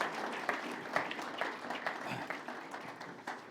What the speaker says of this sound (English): Please, round of applause for our panelists